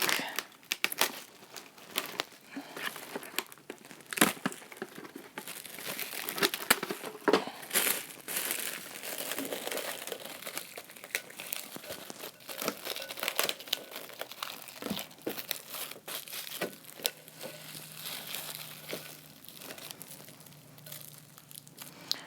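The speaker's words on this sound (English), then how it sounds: "And then cover with plastic." Plastic wrap crinkles and crumples as it is pulled over a bag of warm water and yeast, a steady close rustle with occasional sharper crackles and tearing snaps throughout, no voices.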